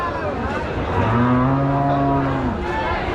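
A Friesian cow lets out a single drawn-out moo, low and tonal, over a noisy outdoor cattle market background of general chatter and ambient sound.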